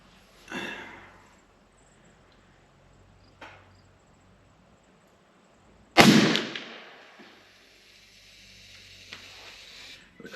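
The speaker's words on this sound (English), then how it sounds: "A couple of shots there." An Umarex Hammer big bore air rifle fires a couple of shots outdoors: a sharp crack near the start, then a much louder close report at about six seconds with a fading tail, all over faint insect chirping.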